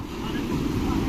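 A boat motor on the crossing to St. Mary's Island near Udupi gives a steady, low droning rumble, with wind noise over it, for about a second.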